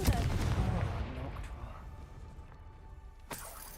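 A Confringo fire blast spell in Hogwarts Legacy bursts with a loud booming explosion that rumbles and fades over a few seconds, followed by a sharp crack near the end.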